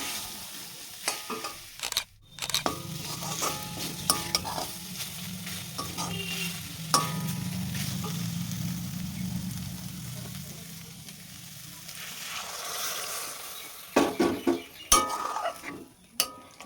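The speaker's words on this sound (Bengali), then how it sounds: "এদিকে দেখো আলু পটলটা আমি কষিয়ে নিচ্ছি এখন" Potatoes and pointed gourd sauté in a pan with a steady low sizzle, while a utensil repeatedly clatters and scrapes against the pan in bursts, loudest toward the end; nobody speaks.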